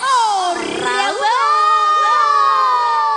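A loud crowd at a live concert cheers and shouts for the performers, voices rising together in excited yells while amplified tones and a singing voice ring over the noise.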